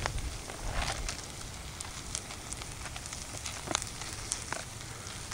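Bacon bits and green onions fry on a Coghlan's folding camp stove with a steady, quiet sizzle and scattered soft pops and crackles, with no talking.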